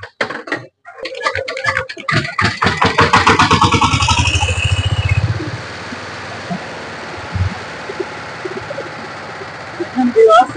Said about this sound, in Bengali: তো আমি এটা স্টার্ট দিয়ে দেখাচ্ছি, একটু গাড়িটা স্টার্ট করেন।